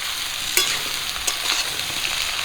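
A piece of giant carp fish head sizzles as it fries in a pan, giving a close, continuous crackling hiss with a few sharper pops.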